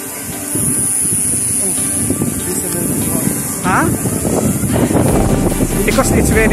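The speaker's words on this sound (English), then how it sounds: "Because it's very windy." Strong wind batters the microphone outdoors while a small drone is landed, a loud continuous rumble with gusty swells. Several people talk over it.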